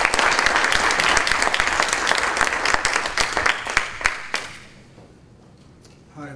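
An audience claps warmly for about four seconds to welcome Professor Percival to an environmental law talk on Antarctica, a dense steady applause that thins out and fades to quiet room tone.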